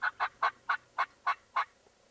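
Merriam's wild turkeys gobbling in the field on a spring hunt: seven short, rhythmic gobble bursts in quick succession, fairly close and distinct, with no voices over them.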